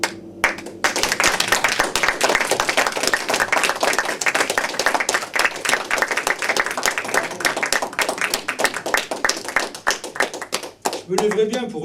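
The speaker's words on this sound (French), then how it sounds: "Je me lèverais bien pour recueillir tous ces applaudissements." Audience applause after a stage performance, a crowd clapping in a brisk, dense burst that runs for about ten seconds and then cuts off, with a voice starting at the end.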